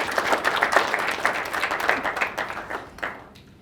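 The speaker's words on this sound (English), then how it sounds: "Let's give her a round of applause right" A round of applause for a school officer at a Governor Wentworth Regional School District safety forum, a modest indoor audience clapping for a few seconds before it thins and fades out.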